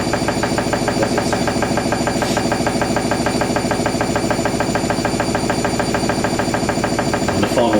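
A Hoover NeXtra HNL3146 washing machine runs through a synthetics 50ºC wash with a loud, continuous mechanical drone and a fast rhythmic knocking rattle, unchanging throughout.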